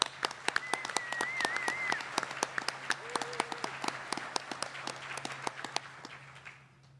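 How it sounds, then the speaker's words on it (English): A conference audience at an opening ceremony gives the organisers a round of applause, heard as moderate clapping with distinct individual claps over a low steady hum, with a brief vocal sound partway through before it tapers off. "join me in giving them a round of applause"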